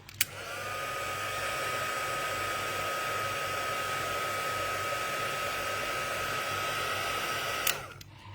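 A hair dryer blows steadily on wet watercolor paint, a loud continuous whir with a tonal whine that runs for about seven seconds before switching off.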